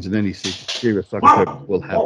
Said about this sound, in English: It's actually quite useful that the dog's barking because he gets the point across.